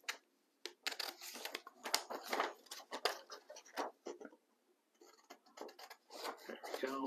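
Scissors snipping around the dash-line flaps of a paper craft cube sheet, a quick run of close, crisp cuts with short pauses between bursts, no talking.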